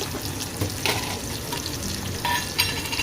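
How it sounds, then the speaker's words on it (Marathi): Onion frying in hot oil for a tempering for prawn curry: a steady, crackling sizzle up close, with a few sharper stirring clinks and scrapes and no voices. "कांदा मी चांगला फ्राय करून घेते"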